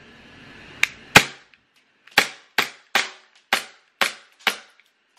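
A small Glock-style BB gun fires a full magazine: two sharp snaps, a pause, then six more evenly spaced cracking shots, close and loud in an otherwise quiet space.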